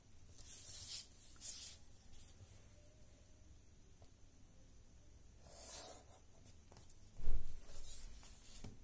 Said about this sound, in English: Now draw a triangle on it, any triangle.